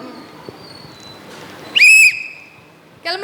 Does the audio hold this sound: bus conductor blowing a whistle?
yes